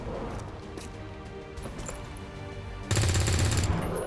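A single gunshot in XCOM 2 Long War 2 lands after a stretch of low, steady ambient game sound, followed by a loud, sustained crash that fills the last second.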